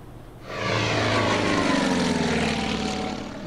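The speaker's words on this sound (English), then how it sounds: "But another bomber is coming forward." Propeller bomber engine drone in the Order of Battle: Winter War strategy game, swelling in after a quiet start into a loud, steady rumbling roar with a throbbing pitch that holds and slowly fades, no talk.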